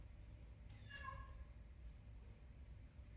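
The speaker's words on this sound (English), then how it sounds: "is that the cat?" House cat giving a couple of short meows, faint and somewhat distant over a low indoor background hum.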